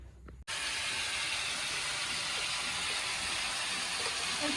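Loud, steady hissing sizzle starts abruptly after a brief quiet moment and continues unbroken, like vegetables hitting a very hot wok.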